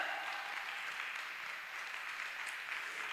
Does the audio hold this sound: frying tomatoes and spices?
no